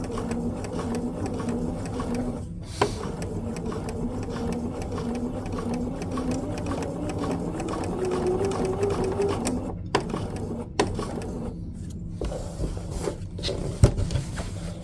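A sewing machine runs steadily, stitching fabric for raw edge appliqué on a quilt, its motor hum continuous with a few brief pauses and small clicks as the work is turned.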